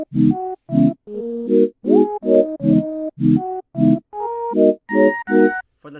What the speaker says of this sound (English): So here I use this flute sound.